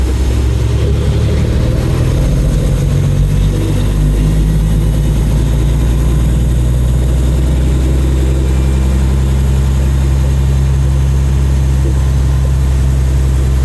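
A vehicle engine runs steadily after a short test drive, a loud low rumble and idle filling the whole stretch with no talk over it.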